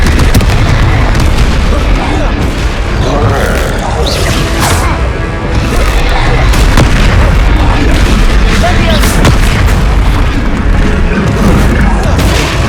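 A Confringo fire spell explodes in Hogwarts Legacy amid a dense, continuous battle din: repeated loud booms and crashing impacts pile up through the whole stretch, with voices shouting over the chaos.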